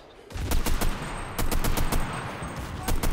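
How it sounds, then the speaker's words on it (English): Heavy gunfire in the video game Enlisted rattles in dense, rapid bursts of sharp cracks, loud and continuous with only brief gaps, as bullets whiz overhead. "All I hear are bullets whizzing over my head."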